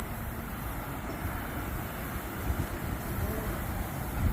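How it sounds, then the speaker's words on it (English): A Newark-bound eight-car PATH train passes at Harrison, a continuous loud rumbling roar with wind buffeting that holds steady throughout. "Now we actually have another train coming."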